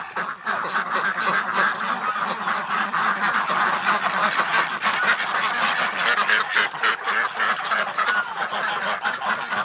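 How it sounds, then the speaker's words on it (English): Ducks let out of their pen, a steady crowded chorus of quacking and honking fowl close by, continuous throughout with no talk. "Let's let the ducks out."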